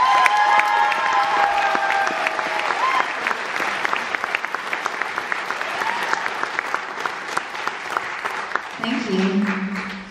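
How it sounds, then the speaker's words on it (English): Audience at a live fiddle concert clapping for a violinist, a dense, loud burst of applause with some cheering, sustained for several seconds before tapering off as a voice and instrument tones come in at the end. "on the violin, please, a round of applause for Miss Kendel Carson"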